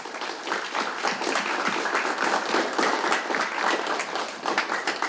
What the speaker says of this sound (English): How about one more round of applause for the whole Pennbrook 7th grade band?